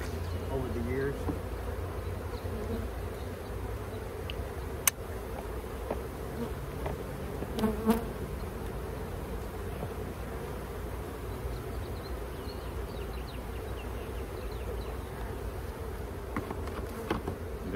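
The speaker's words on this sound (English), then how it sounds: "we got a lot of bees in this box" Honey bees buzzing in a dense, continuous swarm as hives are split and brood frames shaken into a box outdoors, a steady drone with a few sharp knocks and faint voices in the background.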